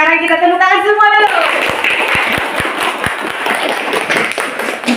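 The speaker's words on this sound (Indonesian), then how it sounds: "sekarang kita tepuk tangan semua dulu." Classroom applause from a group of students after group presentations, starting just over a second in and continuing steadily until the end, with brief sustained voice tones before it begins.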